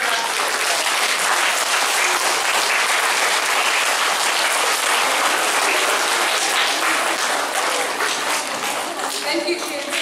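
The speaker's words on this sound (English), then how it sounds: "Give her a round of applause" Sustained applause from an audience of children and teachers at a primary school assembly fills the whole stretch, dense and steady throughout with no talk over it.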